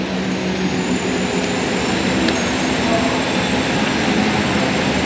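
Steady, loud rumble and broadband roar of the Wijayakusuma local passenger train running between Ketapang and Surabaya, continuous for the whole stretch with no clear breaks.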